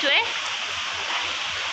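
Heavy rain pours in a strong windy storm, a dense, steady hiss that fills the whole moment, with a voice briefly heard at the start.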